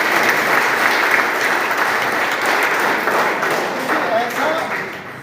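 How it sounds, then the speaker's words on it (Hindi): A crowd at a Gurjar community gathering in Astauli welcomes its national executive with steady, loud applause that runs throughout and fades slightly at the end. "तो इन लोगों के लिए हमारी तरफ से तालियां बजनी"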